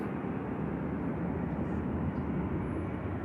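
A departing airliner at Manchester Airport gives off a steady, broad jet roar at a moderate distance, continuous and even throughout.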